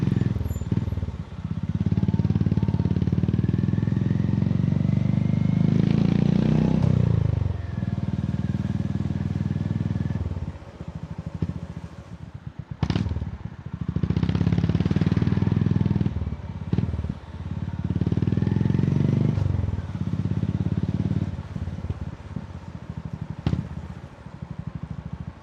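Honda GB350 single with a Black Widow 200mm carbon-tip exhaust, close by: a deep, loud baritone rumble swells in several sustained revs, each dropping back to a quieter idle between bursts.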